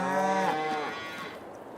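A single cow in Farming Simulator 22 lets out a long, close moo that slowly fades away.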